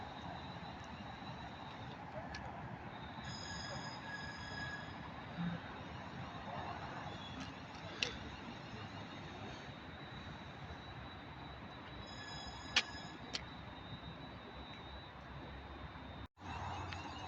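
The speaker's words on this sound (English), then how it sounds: "Now leaving is the 1733 service to Birmingham New Street via Northampton from London Euston." Class 350 electric multiple unit departing Milton Keynes Central station, a steady rolling rumble with faint wheel squeals and a few clanks under the station ambience, continuous at moderate distance.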